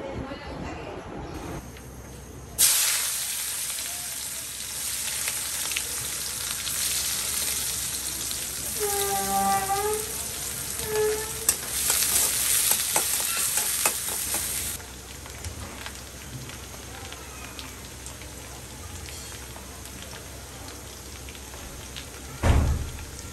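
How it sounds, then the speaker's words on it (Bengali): Fish fries dry in a pan with powdered spices, a steady loud sizzle that starts abruptly and runs for about twelve seconds, with occasional clinks of stirring and a voice speaking briefly over it before it drops away. "মাছটা একদম শুকনো শুকনো করে ভুনা করবো।"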